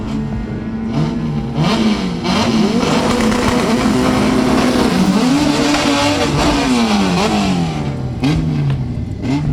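A Honda Civic SiR drag car, likely a B-series build, races down the strip at a Jamaican drag event, its engine loud and close, revving and climbing through gear changes with brief dips between shifts.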